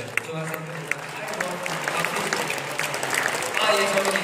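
A church congregation breaks into applause, a dense patter of many hands clapping continuously at moderate volume throughout.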